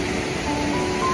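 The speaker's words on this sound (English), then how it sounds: "the waterfall." Waterfall on the Isle of Mull, a steady broadband rush of falling water held evenly and close throughout, with no voices.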